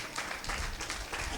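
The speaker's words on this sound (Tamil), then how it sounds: "கைத்தட்டி அப்பாக்கு மகிமை செலுத்துங்க." A church congregation claps and applauds during a worship service, a steady dense patter of hands that fills the short moment at moderate loudness.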